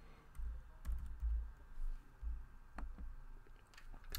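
Keys tapped on a computer keyboard while entering a search in OpenRefine, giving a quiet, irregular run of separate clicks over several seconds over a low background rumble, with no voices.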